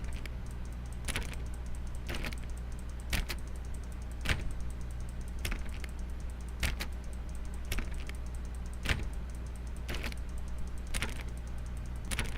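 Mouse clicks on a door in The Stanley Parable, sharp, evenly spaced clicks about once a second over a low steady hum, close and crisp with no talk.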